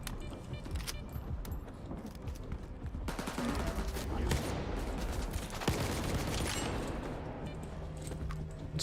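Bursts of gunfire from the video game STALKER crackle in rapid volleys, loud and dense through the whole stretch, with a player speaking briefly over the shooting.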